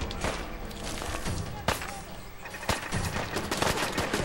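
Rapid automatic gunfire in Fallout 4 rattles in dense continuous bursts, with sharper louder shots standing out near 1.7 and 2.7 seconds amid an ongoing firefight.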